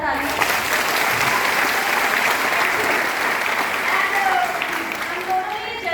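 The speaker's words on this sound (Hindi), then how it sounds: "उनके लिए एक जोरदार ताली" A seminar audience gives a loud, continuous round of applause for a speaker's husband, a thick wash of many hands clapping with a few voices under it.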